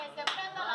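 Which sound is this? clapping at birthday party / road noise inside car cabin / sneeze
clapping at birthday party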